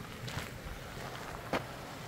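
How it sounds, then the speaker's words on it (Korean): Continuous rushing water from a nearby mountain stream at a forest campsite in winter, a broad steady wash with light wind buffeting and a brief bump. "물소리 들리시나요?"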